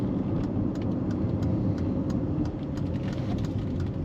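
A 1995 Mercedes-Benz E320 convertible engine hums steadily while driving, a low continuous rumble with road noise, close and fairly loud throughout.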